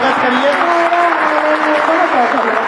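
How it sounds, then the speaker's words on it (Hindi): Loud, dense applause from an audience at a Hindi poetry and ghazal recital, a steady roar of many hands clapping throughout with a sustained tonal voice or music underneath. "जरा एक बार जोरदार तालियों से स्वागत करिए"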